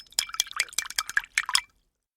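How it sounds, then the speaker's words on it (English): Quick splashing and dripping water close up, a rapid run of small watery sloshes lasting under two seconds before falling silent. "You can dip your paintbrushes in some water now to give them a clean."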